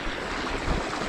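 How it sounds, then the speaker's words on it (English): Hands splash and swish in the shallow water of a tiny trout creek, a steady close wash of running water and wind with no talking. "Let me wet my hands real quick."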